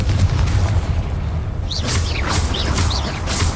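A Confringo fire spell cast during combat in the video game Hogwarts Legacy: a deep, loud boom and rumble with sharp crackling bursts and whooshing hits layered over sustained low-end thunder.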